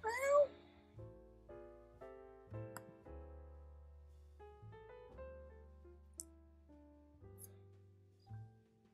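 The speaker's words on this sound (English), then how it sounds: "Hello, other cat." A cat meows close by, a high cry at the start followed by faint chirps, over a quiet room with low steady hum and soft intermittent tones.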